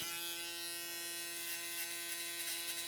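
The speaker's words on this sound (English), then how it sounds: "using the top blade of my foil shaver" A steady electric buzz of a foil shaver runs continuously, close by, with faint scratchy hair-cutting texture toward the end.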